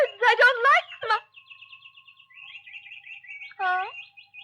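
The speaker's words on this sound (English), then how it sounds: "Those birds, I don't like them." Caged birds chirp in short, bright bursts of tweets. A person speaks just before and just after the birds.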